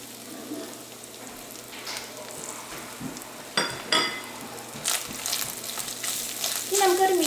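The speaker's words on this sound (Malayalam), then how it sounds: "ഇനി നമുക്കൊരു മീഡിയം ഫ്ലെയിമിലിട്ടിട്ട് ഈ തേങ്ങ നമുക്ക് വറുത്തെടുക്കണം" Grated coconut frying with shallots in coconut oil over medium flame for erissery, a steady close sizzle broken by occasional sharp scraping and stirring clatters, with a louder crackling burst near the end and no talking.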